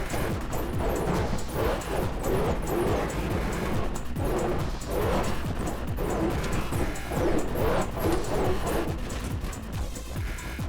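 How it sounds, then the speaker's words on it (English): An attack helicopter in the video game Trailmakers gives a loud, continuous rumbling drone with a rhythmic, pulsing rotor-like beat throughout. "So that is the Crimson Shadow attack helicopter."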